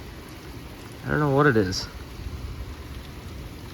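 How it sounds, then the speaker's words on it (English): Heavy rain falls steadily outdoors, a constant hiss filling the background, with someone speaking briefly partway through. "it's still raining hard"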